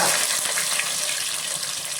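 Sliced onions frying in hot coconut oil with fenugreek seeds in a pan for Thrissur-style fish curry, giving a close, busy sizzle with stirring scrapes and no talk.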